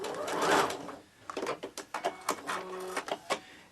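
Sewing machine stitching ribbons onto quilt batting for a scrappy Christmas ornament, running back and forth: a short whirring burst, a pause, then a string of quick, close stitching pulses that stop and start in short runs.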